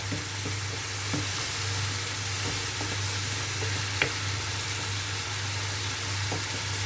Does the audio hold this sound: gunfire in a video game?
no